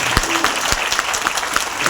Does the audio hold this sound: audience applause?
yes